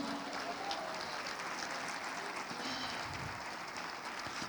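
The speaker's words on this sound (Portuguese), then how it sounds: "Você pode aplaudir o nome do Senhor?" Applause from a church congregation during a sermon, a steady wash of clapping held at moderate level throughout, somewhat distant and diffuse, with no voice over it.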